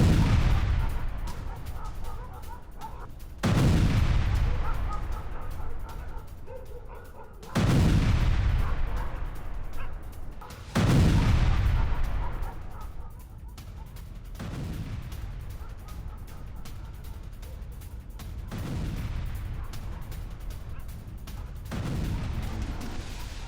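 A series of heavy booming blasts from air strikes on Al Dulaimi airbase in Yemen, each with a sharp onset and long rumbling decay, repeating every few seconds across the clip.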